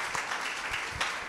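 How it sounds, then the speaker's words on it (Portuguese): A church congregation at a Sunday celebration service breaks into applause, a short burst of dense clapping from many hands in a reverberant hall, with no talk over it. "Dê um aplauso ao Senhor para a vida dos nossos amados irmãos."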